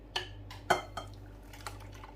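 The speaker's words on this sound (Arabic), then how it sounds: "دابا غادي نصبهم هنايا في الماء هذا اللي غادي نوجد فيه" Ground almonds and flax seeds are poured into water in a bowl, with a few sharp, close clinks of utensil on dish and faint liquid movement between them, no talking.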